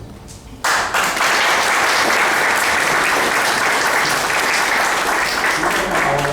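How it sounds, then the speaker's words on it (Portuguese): Listeners applaud at the close of a lecture on Spiritism and self-knowledge, the clapping bursting in abruptly and continuing as a loud, sustained, steady crowd roar to the end. "você foi aplaudido"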